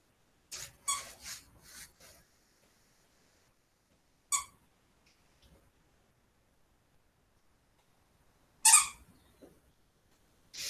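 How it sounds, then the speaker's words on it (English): A dog plays with a squeaky toy indoors, giving faint, sharp squeaks in a quick cluster of four, then one alone and another a few seconds later, with quiet gaps between. "That's just Teddy playing with his squeaky toy"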